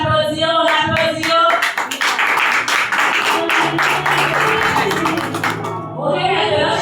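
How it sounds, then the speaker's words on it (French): Parents at a school investiture ceremony clap in a burst of applause, loud and near, mixed with a voice over a microphone and shouts from the crowd. "je vous demande d'applaudir, on applaudit"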